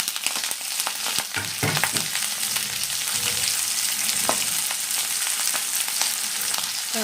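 Green chillies sizzle in hot oil with onion and mustard seeds for a Kerala okra stir-fry, a dense, loud frying hiss broken by a few spattering pops and stirring noises.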